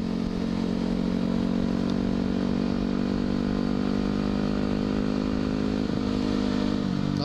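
A motorcycle rides at night, its engine giving a steady, loud, close drone with a low clattering rumble that holds throughout, with no pauses or clear revving changes.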